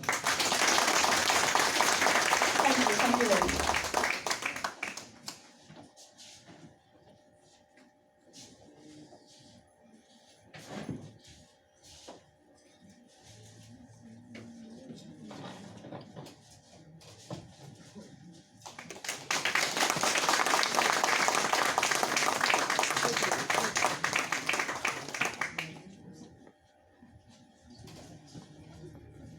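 Loud applause from an event audience greeting a founder's family, two sustained broadband bursts of clapping, one at the start and a second, longer one later, with a brief spoken thanks and quieter crowd noise between them.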